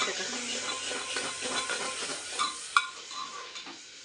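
Ginger-garlic paste sizzles and hisses steadily in a hot pan while biryani is being cooked, with a few stirring scrapes and a sharp utensil clink near the end, no talking.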